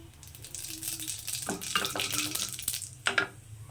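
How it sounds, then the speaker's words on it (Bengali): Dried red chillies and radhuni seeds frying in hot oil in a pan: a continuous crackling sizzle, with spatula scrapes and clinks of metal against the pan, up close. "শুকনো লঙ্কাটা ভালো করে ভাজা হয়ে গেছে তো এর মধ্যে দিয়ে দিচ্ছি আমি একটু রাঁধুনি"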